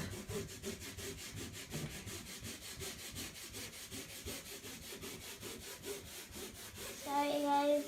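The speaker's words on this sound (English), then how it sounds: "now I'm going to take a dry sponge. Yep, good job. And I'm going to scrub the soft scrub in" A dry sponge scrubs Soft Scrub cleanser into a textured shower floor in steady, rhythmic back-and-forth rubbing strokes, close and continuous, growing a little louder at the end.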